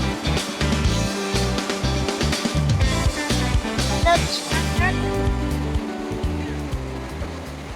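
Fast, ice-cold river water rushes steadily close by in Moratalla, Murcia, Spain, a continuous churning roar with brief splashes, while people talk faintly over it.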